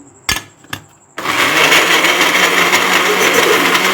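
Electric grinder in a village kitchen starts up after a couple of sharp knocks, then roars loudly and steadily, close by, as ingredients are ground.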